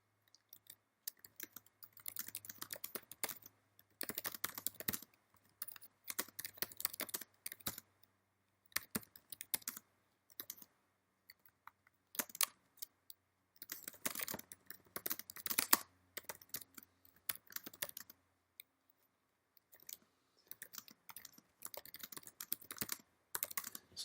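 Someone types text on a computer keyboard in quick bursts of close clicking keystrokes, separated by short pauses, in an otherwise quiet room.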